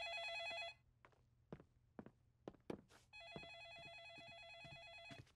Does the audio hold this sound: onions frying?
no